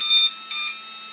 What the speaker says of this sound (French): Mon drone s'est mis à biper